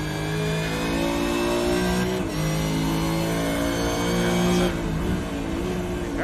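Supercar engine in the iRacing sim at Tsukuba Circuit, loud and close, revving hard as it powers out of a fast corner, pitch climbing with brief dips at gear shifts.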